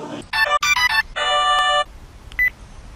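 A phone ringtone plays a bright electronic melody of short, loud, close tones, then a longer sustained phrase, before trailing off into quiet with one faint final blip.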